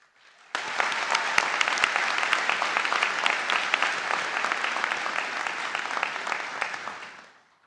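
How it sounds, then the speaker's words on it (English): A commencement crowd at a college graduation ceremony breaks into steady applause for the graduates, starting abruptly, holding dense and even for several seconds, then fading out. "Can we have a round of applause for our graduates?"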